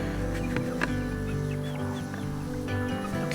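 Backyard farm chickens clucking softly as they are fed protein treats during chores, a steady murmur of low calls with a few sharper clucks, close by and continuous.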